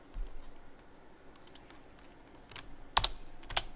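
Keys are pressed on a computer keyboard while typing in a bash terminal: a few light, scattered clicks give way to two sharper, louder key strikes near the end, with a quiet room around them.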